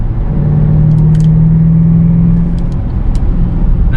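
A 2022 Dodge Durango SRT accelerates at full throttle out of a corner, a loud, close engine drone that holds a steady pitch and carries a few faint high squeaks over the top.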